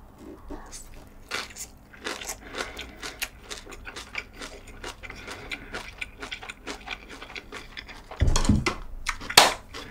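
Close-up crisp crunching as kimchi cabbage is chewed with white rice, a dense run of snappy bites that gets louder near the end.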